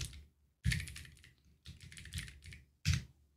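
Typing on a computer keyboard, three short close bursts of quick clicking keystrokes separated by brief pauses, with no talking.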